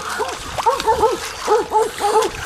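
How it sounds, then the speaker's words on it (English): A hunting dog bays at a hog near a lake, giving rapid bursts of high, rising-and-falling yelps in quick clusters, with water splashing underneath. "The dog's got him, y'all."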